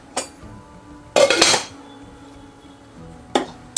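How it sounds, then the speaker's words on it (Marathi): A metal lid is set onto a pot of simmering fenugreek dal (methi alan) on a home stove: a light tap, then a clattering clink as the lid settles, and one more sharp knock a moment later, all close and fairly loud. "थोडा वेळ मी याच्यावर झाकण ठेवते"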